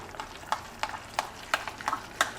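Jowar flour batter with salt, fennel seeds and lemon juice being stirred in a bowl for bhajiya, a quiet series of evenly spaced spoon clicks and taps.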